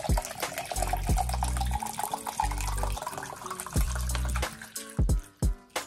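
Water pours into a G Fuel shaker for a Mfam Punch hydration drink, a steady close splashing fill with a few gurgling pauses and short bursts toward the end.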